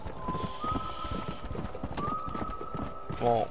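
Horses clip-clopping in the video game Red Dead Redemption, a brisk, close run of hoofbeats with a tonal music line behind, followed by a loud neigh near the end.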